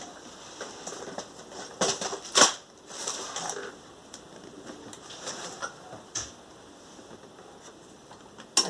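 A sewing machine stitches the end of a fabric door draft stopper, with a backstitch at the start and finish. Close, light rapid ticking comes in short bursts with pauses between runs.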